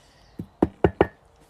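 Four close, crisp knocks on a hard surface, the first lighter and the next three in a quick firm run, each ending abruptly, with quiet around them.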